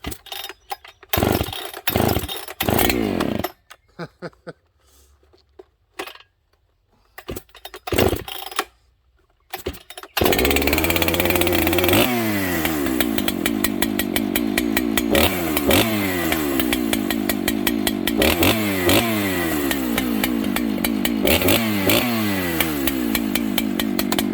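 Several pull-starts and sputters, then a Husqvarna 394XP chainsaw roars to life and revs steadily, its engine rising and dipping as it cuts through wood.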